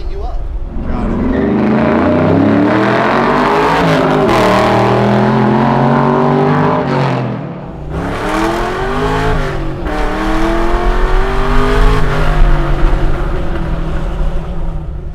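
A 745 hp Hellcat-powered Chevy C10 pickup engine revving close up, exhaust rising and falling through several long pulls with a brief dip, with people talking under it.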